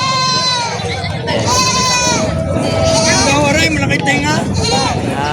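Several native goats bleat repeatedly, loud and close, their wavering calls overlapping one another with faint human chatter underneath, in Padre Garcia, Batangas.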